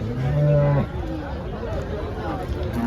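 HF, Jersey and local desi cows at a busy cattle market give a loud, close moo lasting under a second, then the crowd's low chatter and babble carries on steadily underneath.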